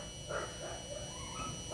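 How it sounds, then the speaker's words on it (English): A neighbour's dog barking faintly in the distance through a shut door, a few muffled yaps and whimpers over a steady background hum. "Letting her dog go off while I'm trying to speak."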